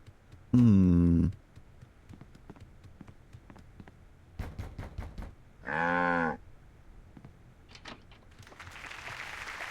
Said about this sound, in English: I know you're hiding a cow!